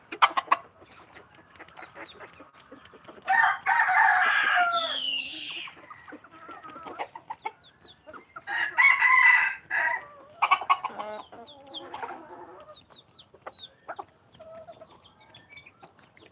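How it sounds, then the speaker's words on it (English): Free-roaming backyard chickens near a house cluck repeatedly, with bursts of louder squawking and a rooster crowing, close and loud in two main clusters between quieter clucks. "these chickens here, most of the day they're just roaming around the house, finding bugs and worms"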